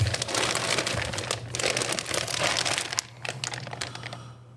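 Plastic parts bag from a TRX4 chassis kit crinkles and rustles continuously close by, the handling dense and steady before easing slightly in the last second or so, with no talking.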